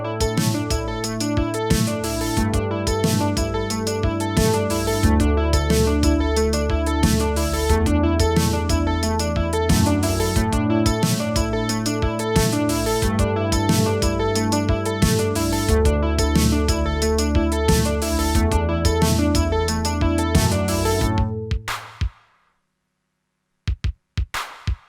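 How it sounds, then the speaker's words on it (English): A drum machine and synth sequence play together on a multitrack cassette recorder, a steady repeating pattern with a low electrical hum running underneath, then stop abruptly near the end, leaving near silence. "So I'm going to start up the drum machine and the synth sequence to check that the levels are okay."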